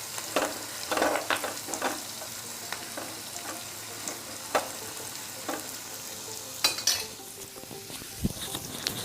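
Chopped garlic frying in hot oil in a pan for a dal khichdi tadka gives a steady, close sizzle, with intermittent scraping and clinks of a spoon stirring against the pan, and a louder clatter near the end.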